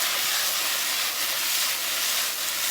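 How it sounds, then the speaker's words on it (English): Bitter melon and onion sear in a very hot pan, giving a loud, steady, dense sizzle and hiss that runs unbroken throughout with no speech. "when it's almost done, you can add the rest of the onion. And toss it again."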